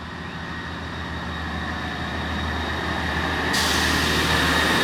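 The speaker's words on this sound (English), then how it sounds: "with that train heading out behind me" A train pulls out of Seaton Delaval station on the Northumberland Line, its low engine drone and rail hum building steadily louder over several seconds with no talking.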